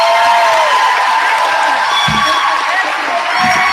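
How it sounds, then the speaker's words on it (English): Audience applause and cheering at a 2023 8th grade graduation ceremony at AIMS Middle School, dense, steady clapping filling the hall with scattered whoops and a few low thumps. "Give one more round of applause for Elijah Rucker"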